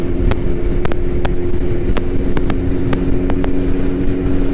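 Suzuki Hayabusa turbo motorcycle on the move, a loud, steady engine drone buried under heavy rushing wind noise, with a few sharp clicks and no talk.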